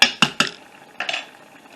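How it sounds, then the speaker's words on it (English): A spoon stirring collard greens in a cooking pot strikes the metal sharply three times in quick succession, pauses, then clanks twice more, close and clear with no talking. "I'm going to stir it some more this time."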